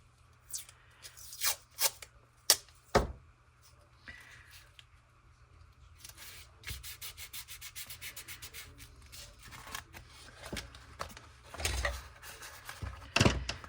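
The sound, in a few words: tape being applied over a rip in a faux leather journal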